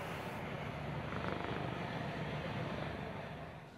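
Fighter jets and attack helicopters displaying at the Aero India air show in Bangalore give a steady, broad engine roar that holds fairly constant throughout, moderately loud with no talk.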